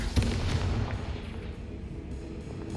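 A fiery Confringo blasting spell explodes in the video game Hogwarts Legacy: one sudden deep boom followed by a rumbling, crackling decay that fades over a couple of seconds.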